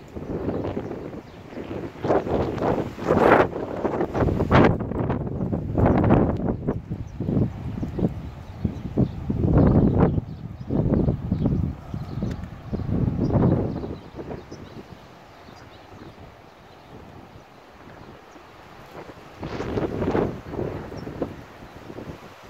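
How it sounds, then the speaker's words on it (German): Strong Poniente wind buffets the microphone on the Spanish coast in loud, uneven gusts, easing for a few seconds near the end before another hard blast. "wollte ich euch eigentlich auch nur erzählen, was es hier so gibt an Wind und wie der so aussieht."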